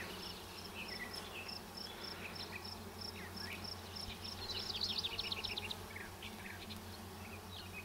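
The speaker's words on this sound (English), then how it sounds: "Those frames are pretty packed with bees." Honey bees from an open beehive whose frames are packed with bees, a steady outdoor insect hum with faint chirps of birds or crickets; it swells briefly near the middle. Nobody speaks.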